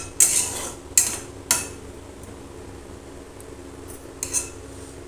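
A spoon clinks several times against a pot while sugar is stirred into a thick chutney, three sharp taps early and a couple more near the end, with quiet pauses between.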